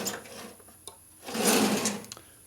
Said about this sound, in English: So we're going to use a scribe. Use a carbide scribe.